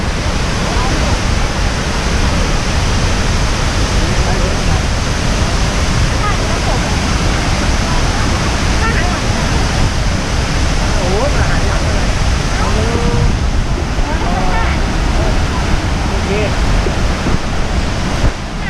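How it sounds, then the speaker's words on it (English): The Kuang Si waterfall in Laos sends up a loud, unbroken roar of falling water that holds steady from start to finish, with faint bird calls or high sounds showing through in places. "There's a big waterfall right in the middle."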